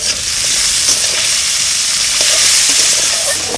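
Banana stem dropped into hot oil fries with a loud, dense, steady sizzle that holds strong and unbroken throughout, with no voices over it.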